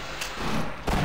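Gunfire in the shooter game Half-Life, two quick close bursts about a second apart, loud and punchy over a dense background rumble.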